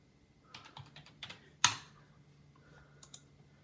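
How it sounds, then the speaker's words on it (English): Short bursts of keystrokes on the keyboard of an old HP Envy desktop computer: a few scattered, light clicks followed by one sharper, louder tap, then a final pair of soft presses, all close by in a quiet room. "So let's type my name"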